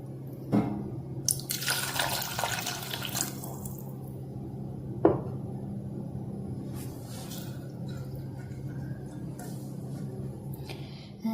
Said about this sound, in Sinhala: දැන් මම මේ ටික වැහෙන ගන්නට වගේ වතුර එකතු කරගන්නවා මේ විදියට.